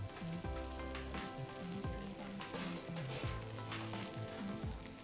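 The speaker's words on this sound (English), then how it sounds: "if you are cooking the fish on a medium flame, you will have a nice crust of semolina on the surface of the fish" Bangda fish coated in semolina fries in a pan over a medium flame, giving a loud, steady sizzle and crackle throughout, heard close up with no voices.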